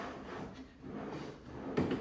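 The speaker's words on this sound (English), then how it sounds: "Let's insert drawer number 2, small drawer." A small drawer slid into a Yukon wood workbench during assembly, a soft sliding rub ending in a firmer knock close by, with quiet room noise before it.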